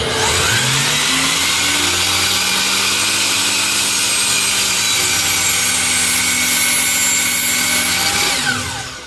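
A battery-powered saw fitted with a brand-new blade cuts through material, its motor holding a loud, steady whine that barely bogs down for about nine seconds before winding off at the end.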